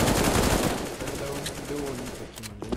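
Mag-7 shotgun fire in CS:GO, with loud blasts in the opening second followed by quieter gunfire and game noise.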